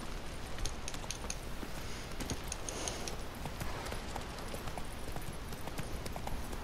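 Horse hooves clip-clop steadily in The Witcher 3: Wild Hunt, a continuous rhythmic trot over a dense, noisy in-game background.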